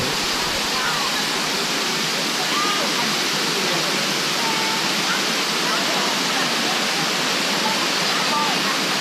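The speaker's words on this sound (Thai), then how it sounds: "น้ำตกร้อน" A hot spring waterfall in Krabi roars steadily and loudly, a constant broadband rush of falling water with no break throughout.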